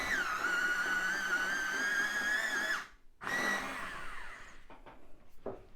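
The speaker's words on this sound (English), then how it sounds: "I'm going to get my sepia 10 in the Luminance. Let's give that a sharpen." A Luminance sepia coloured pencil grinds in a motorised sharpener, a loud steady whining buzz for nearly three seconds, then a short burst after a brief gap, trailing off into quiet handling sounds.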